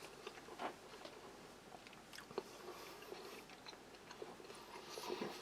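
Someone chewing a Danish army 24-hour combat ration breakfast, heard close up as quiet, continuous crunchy mastication with small irregular clicks and bites.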